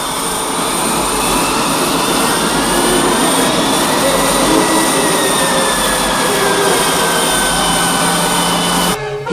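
A jet aircraft comes in to land at an airfield, its engine giving a loud, steady roar that holds almost unchanged for about nine seconds before cutting off abruptly.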